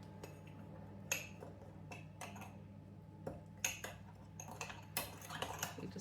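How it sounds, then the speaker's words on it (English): A metal spoon mixes syrup and sugar into a smooth slurry in a bowl for a fruity pudding, giving quiet, irregular clinks and scrapes against the dish over a faint steady background hum. "You just mix that together to make a smooth paste, which we call slurry."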